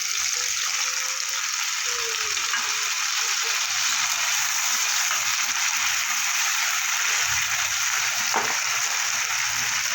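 Potatoes fry in oil with crushed ginger and green chili, producing a constant, close, loud sizzle with occasional soft stirring scrapes and no talking.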